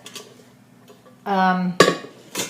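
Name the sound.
metal cooking pot being handled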